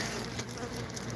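Honey bees buzz at a hive during an inspection of new nucs, a dense, continuous close drone that fills the moment without talking.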